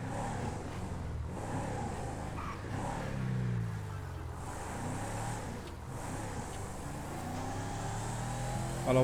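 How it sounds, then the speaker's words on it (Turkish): A Hummer H2 engine rumbles and revs off-road in a continuous low drone that swells and eases, with faint talk underneath. "Araba bayağı ötüyor ya baksanız abi."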